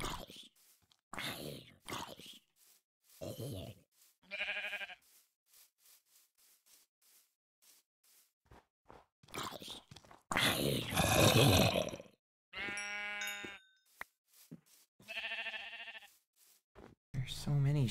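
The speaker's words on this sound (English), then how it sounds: "You have this gigantic herd of sheep." Sheep in the video game Minecraft bleat several times in short, wavering calls spread through the stretch, alternating with people talking and laughing.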